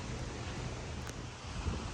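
Ocean surf rolls steadily onto a beach at Camaya Coast in Mariveles, Bataan, a broad continuous wash of waves mixed with gusty wind noise on the microphone, with no voices.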